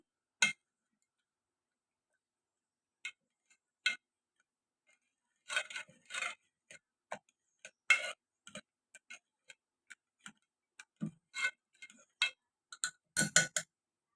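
Cooked dal being mashed with a masher in an opened pressure cooker gives quiet, sparse taps and clinks, scattered at first and then bunching into quicker irregular bursts, with no talking.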